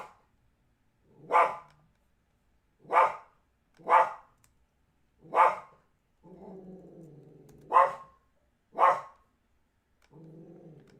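A dog barks singly and sharply at irregular intervals, with low rumbling growls in the gaps, close to the recorder and otherwise quiet.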